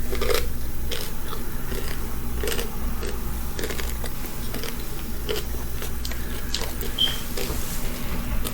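Crunchy chicken bitten and chewed close to the mic, a steady run of crisp crackling crunches repeating throughout with no talking.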